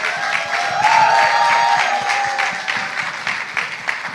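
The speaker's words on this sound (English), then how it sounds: "Ladies and gentlemen, keep the round of applause coming." Audience applauding as a celebrated TV show host walks on stage at a business panel event, a dense wash of clapping that holds steady and then thins toward the end.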